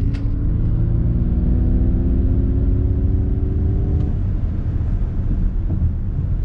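A 2021 Ford Mach-E electric car speeds up while playing a synthetic engine sound, a steady rising hum with gliding tonal layers over loud road rumble inside the cabin.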